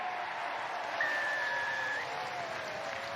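A rugby stadium crowd applauds and cheers after a Newcastle Red Bulls try against Harlequins, a steady broad roar at moderate distance with a whistle-like tone briefly over it.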